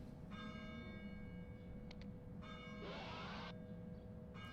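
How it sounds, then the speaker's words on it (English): A bell ringing in the video game Getting Over It, faint tolls with a long shimmering tone under a quiet low rumble, one brief bright swell partway through, no talk. "The fucking ringing of the bell is it's a cute touch"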